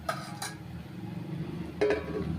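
A pressure cooker is set down on a preheated dosa pan with a couple of sharp metallic clanks and a clink, close and brief, over low background noise.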